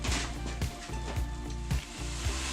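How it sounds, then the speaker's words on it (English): Zucchini noodles sizzle steadily in a hot pan, a continuous close frying hiss with faint scraping and stirring knocks, no voices. "We are cooking our zucchini noodles right now"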